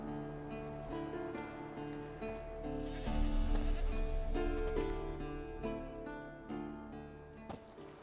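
A goat tied to a stake in The Witcher 3 bleats several times over a backdrop of game music, its wavering cries fairly close and loud.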